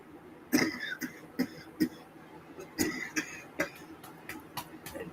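Several sharp coughs burst out in an irregular series, close and fairly loud, with brief quiet gaps between them.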